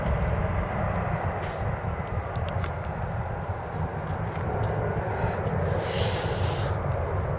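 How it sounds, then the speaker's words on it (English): A steady, broad roar of an easyJet passenger jet passing overhead near Luton, constant and fairly loud with wind-like rumble throughout. "Lovely easy jet plane."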